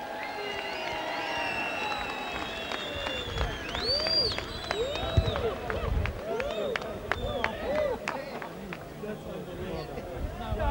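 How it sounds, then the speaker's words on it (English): Racecourse crowd applauding and cheering after a race, a broad steady wash of clapping and babble with people talking over it throughout. "Give him a big round of applause"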